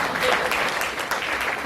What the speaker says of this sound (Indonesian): Tepuk tangan dulu untuk Bu Yulia.